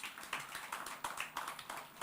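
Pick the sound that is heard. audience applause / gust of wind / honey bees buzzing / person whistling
audience applause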